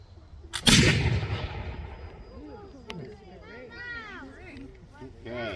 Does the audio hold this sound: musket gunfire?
yes